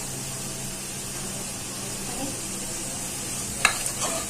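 Onion sizzles steadily in ghee and corn oil in a pan, a close continuous frying hiss, with a brief sharp clink of a utensil near the end and no talk.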